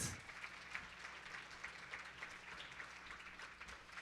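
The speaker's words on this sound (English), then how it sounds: "applaud that" Faint, steady applause from an audience at the Northwest Justice Project's Jubilee for Justice gala, a diffuse patter of many hands heard from a distance.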